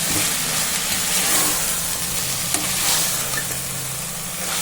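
Tomatoes and onions with salt sautéing in a pan for chicken biryani, a steady close sizzle and hiss with occasional stirring scrapes, no talking.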